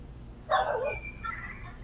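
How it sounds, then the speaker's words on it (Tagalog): Dogs on a farm barking and yipping, a sudden sharp bark followed by a few higher whining yips, moderately close over a quiet outdoor background. "Panay aso yata ang tumatahol sa inyo, puro aso."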